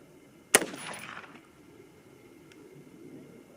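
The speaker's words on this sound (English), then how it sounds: "That first shot, cold bore, clean bore." A single close, loud cold-bore rifle shot from a Christensen Arms MPR bolt-action rifle, a sharp crack followed by a decaying echo that fades over about a second, then quiet.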